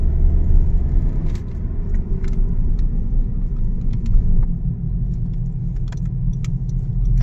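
A Honda Civic Tourer estate with the 1.6 i-DTEC diesel engine drives along, its steady low rumble heard from inside the cabin along with a few faint rattles and light clicks.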